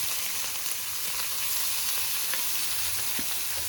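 Steady, dense sizzling of cabbage frying in a hot pan, close and continuous, with faint crackles and occasional stirring clicks.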